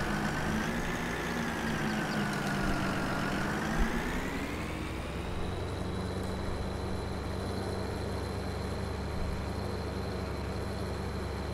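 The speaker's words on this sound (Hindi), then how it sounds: "भाई बैक ही नहीं जा रहा है ट्रैक्टर।" A tractor engine strains on a steep climb in Farming Simulator 22, stuck and unable to reverse; a loud, continuous heavy drone whose pitch sags and rises before settling into a steady labouring hum, with no talk.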